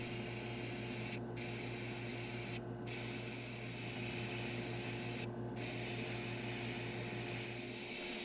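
Black metallic paint hisses steadily from a spray can or airbrush in a close, continuous loud spray. It is broken by three brief pauses, and a constant low hum runs underneath with no talking.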